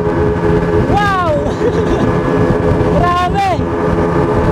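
A large, fast motorboat in the Philippines racing at about 63 km/h produces a loud, steady engine drone with rushing wind, while voices call out over it.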